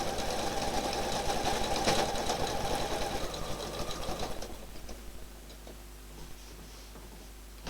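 A sewing machine stitches in the ditch along the seams of quilt fabric, with fast rhythmic ticking and a whirring motor close by, steady at first and then slowing to faint intermittent stitches.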